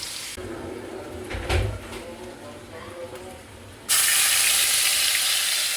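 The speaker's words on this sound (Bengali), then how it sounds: "তো চিংড়ি মাছগুলো এদিকে ভাজা হতে থাক" Prawns frying in a pan while onion, ginger and chilli are prepared: quiet kitchen clatter at first, then a loud, steady sizzle that suddenly swells and holds for the last couple of seconds.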